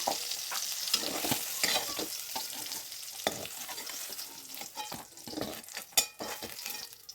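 Roasted peanuts and other ingredients are scraped and spooned into a bowl, with rustling, scraping and a few sharp clinks against a faint background sizzle.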